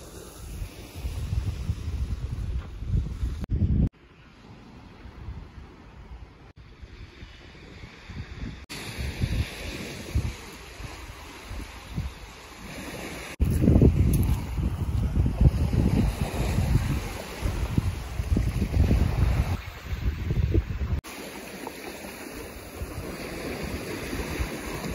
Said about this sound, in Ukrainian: Море сьогодні спокійне